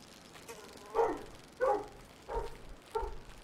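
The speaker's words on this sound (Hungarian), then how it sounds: "Bocsánat, hangos a kutya." A dog barks four times in a row outdoors on a hunting outing, each bark short and moderately loud, spaced roughly half a second to a second apart over a quiet background.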